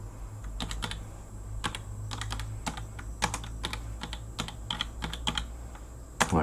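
Computer keyboard being typed on in short irregular bursts of key clicks, close and clear over a steady low hum, with no voices.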